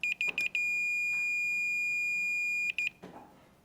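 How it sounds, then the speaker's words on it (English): Multimeter continuity beeper testing terminals on a Frigidaire range's dual burner element infinite switch: a few quick chirps, then a steady piercing tone for about two seconds, then two more short chirps, loud and close. "use your multimeter to check for continuity between the following terminals."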